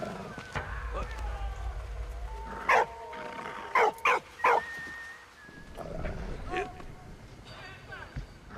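Dog barking in Valiant Hearts: The Great War, a cluster of loud close barks and yips amid trench-war game sounds and music, with someone talking over parts of it.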